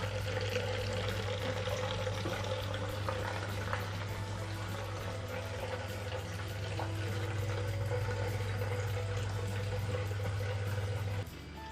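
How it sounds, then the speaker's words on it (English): A Grainfather all-grain brewing system's pump circulates cooling water during a Thornbridge Jaipur brew, giving a steady hum with continuous watery trickling that runs unbroken for about eleven seconds before cutting off. "I'll increase the pump speed as well"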